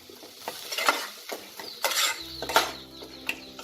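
Raisins and cashews stirred into a Bengali tomato-date chutney in a pan, giving soft scraping and clinking strokes of a spoon at an irregular pace, close and moderately quiet.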